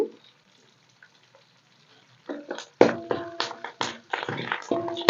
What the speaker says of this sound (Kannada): ಇವನು ಒಂದು ನಿಮಿಷ ಫ್ರೈ ಮಾಡ್ಕೊಳ್ಳೋಣ ಈಗ ಕರಿಬೇವನ್ನು ಹಾಕ್ಕೊಂಬಿಡೋಣ